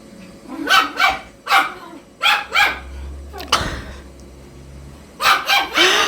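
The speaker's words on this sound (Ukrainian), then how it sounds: "От просто гавкає, коли вони що зроблять." A dog barks in several sharp, close bursts, mostly in quick pairs, with pauses between and a low hum in the background.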